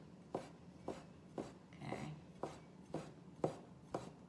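A knife slicing through rolled, floured gluten-free pasta dough into fettuccine on a board, a series of eight evenly spaced soft thuds about half a second apart, close and quiet, with no speech.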